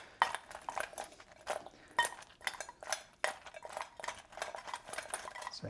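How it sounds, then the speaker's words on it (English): Food being tossed in a bowl to coat it in sriracha, a series of close clinking and scraping hits against the bowl in an uneven rhythm, with no talking. "give them a toss just to get them coated"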